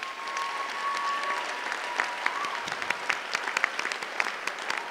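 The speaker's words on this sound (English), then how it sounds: "how about a round of applause for everyone who's helped us get here today" Distant applause from a commencement ceremony audience of graduates, a steady soft patter of many hands with sharper individual claps emerging toward the end.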